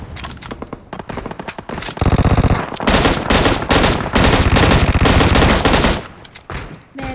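Gunfire in the video game PUBG: loud, rapid automatic bursts and dense volleys that run almost without a break, with little talk over them.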